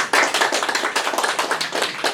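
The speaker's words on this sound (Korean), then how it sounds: "큰 박수로 맞이해 주시면 고맙겠습니다." An audience claps at a press conference in Sejong on the 22nd general election vote-counting results, a fairly close, loud burst of individual hand claps with a distinct rhythmic texture, no talking over it.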